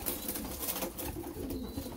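Domestic production pigeons coo and murmur steadily at close range in a loft, a continuous busy warble over a rough background with no talk.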